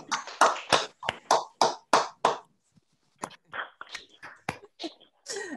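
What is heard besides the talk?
Zoom participants unmuting and applauding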